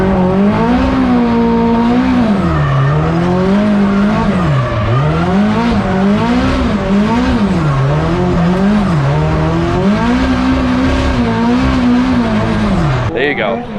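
A K-swapped FRS accelerates on a track in second gear, its engine note rising and falling loudly through revs in a continuous close howl, with people talking over it.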